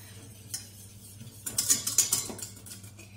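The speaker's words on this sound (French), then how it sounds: "Et puis avec notre fouet, on va venir" A whisk stirs icing sugar into a Christmas shortbread cookie glaze, giving soft scraping and faint clinks against the bowl, quiet at first and then a livelier burst of mixing.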